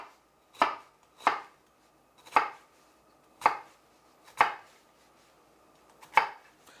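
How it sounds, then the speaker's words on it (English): A knife chopping food into small dice on a cutting board, six sharp, evenly spaced chops about a second apart, close and clear against a quiet background. "So what you're going to want to do is you cut it across horizontally"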